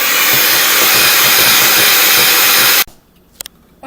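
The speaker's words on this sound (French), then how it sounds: "on va mixer jusqu'à consistance crémeuse" An electric hand mixer beats vanilla and egg yolk into a creamy batter for caramel chip triangles, a loud steady whirring hiss that stops abruptly, followed by a few faint clinks.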